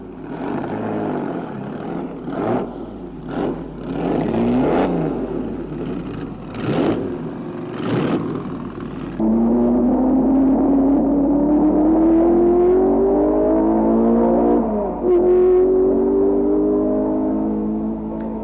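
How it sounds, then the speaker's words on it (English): Four-cylinder Lotus 18 racing car engine at the 1962 Belgian Grand Prix, first blipping in several short revving bursts, then holding a loud, steady, buzzing drone whose pitch climbs as it accelerates, with a brief dip before climbing again. "He was down to drive Rob's old 4-cylinder Lotus 18."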